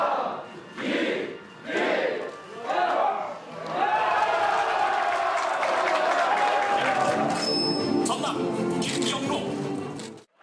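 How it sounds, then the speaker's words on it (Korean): In party election situation rooms, a crowd erupts into loud cheering and applause after a few bursts of voices, a sustained roar of shouts and clapping that holds for several seconds before cutting off. "출구조사 결과에 여야 상황실에서 환호와 탄식이 교차했습니다"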